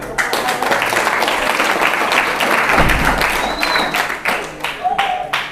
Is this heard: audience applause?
yes